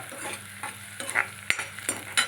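A tadka for saag sizzles in hot oil while a metal spoon stirs and scrapes the pan, giving a steady fry hiss broken by a few sharp, close clinks.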